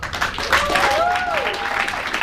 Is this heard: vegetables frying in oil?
no